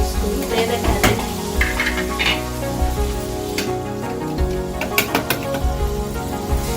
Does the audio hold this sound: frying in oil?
yes